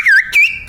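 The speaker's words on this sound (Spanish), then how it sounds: "una de las frases más importantes del silbo gomero es esta" A phrase in Silbo Gomero, the whistled language of La Gomera: two loud, piercing whistled notes that slide in pitch, each lasting a fraction of a second, heard alone and close up.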